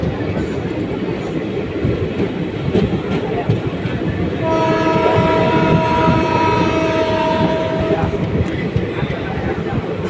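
Ratnachal SF Express running near Nidadavolu on the Vijayawada to Rajahmundry route, a loud continuous rumble and rattle of wheels with a sustained horn blast midway as a Vande Bharat approaches on the opposite track; a voice speaks faintly.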